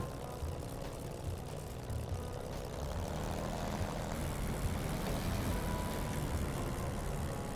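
A Spitfire propeller plane taxis in DCS World, its engine a steady, faint, low drone that thickens slightly toward the end, alone without voices.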